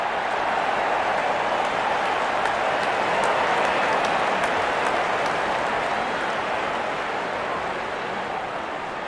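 A cricket crowd at a T20 World Cup match between Sri Lanka and Oman claps and cheers in a broad, steady wash of applause, heard at a distance without a break.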